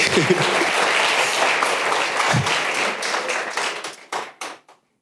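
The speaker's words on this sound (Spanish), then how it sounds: "Denle un fuerte aplauso a Dios" Audience applause in a church service during a sermon on forgiveness, a dense, loud wash of clapping that holds steady, then thins into a few scattered claps and dies away near the end.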